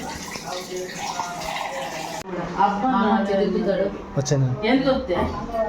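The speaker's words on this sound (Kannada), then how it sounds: "ನಿಧಾನ ನಿಧಾನ ಎಲ್ಲ ಚೆಲ್ಲೋಯ್ತು ನೀರು" Water pours with a rushing, splashing spill, then people talk over lighter trickling sounds.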